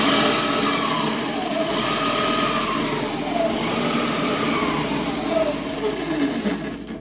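Electric motor of a 60V Razor Ground Force drift kart fitted with a 2000W MY1020 kit, running steadily with a whining tone that rises and falls as the throttle is worked, loud and close.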